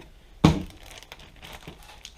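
A plastic bag holding used clutch soaking oil from a Yamaha Warrior 350 gets a sharp, loud crinkle as it is grabbed and sealed, followed by softer, scattered rustles fading out.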